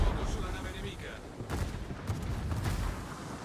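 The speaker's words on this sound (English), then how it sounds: "Massachusetts shooting HE at you." Heavy naval gunfire from the battleship Massachusetts lobbing high-explosive shells in World of Warships, heard as a dense run of booming salvos and explosions under a continuous game soundscape, with a voice talking over it.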